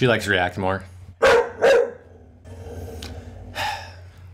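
A dog barks twice in quick succession near the microphone, with a person talking before and after the barks.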